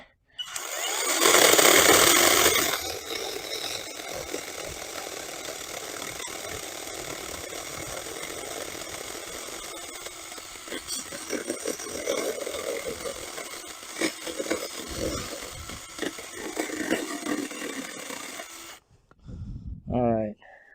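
Weikeisa 10-inch handheld brushless cordless chainsaw cutting through wood, a loud whining rev at the start, then a steady buzzing cut that varies in load and stops abruptly near the end.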